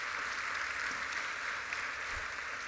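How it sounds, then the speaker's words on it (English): At an awards ceremony, an audience's applause for the Premier comes across as a steady, fairly faint wash of clapping with no voices over it. "Big round of applause for the Premier and his wonderful speech."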